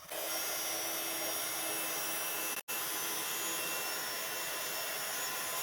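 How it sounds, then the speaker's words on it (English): A heat tool warms foil bonding powder on a handmade card, giving a loud, constant blowing whoosh close up that runs nearly unbroken except for one momentary cutout. "I'm just going to go over it again with the heat tool"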